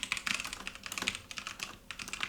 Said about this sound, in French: Et voilà ce que ça donne en termes de frappe au clavier.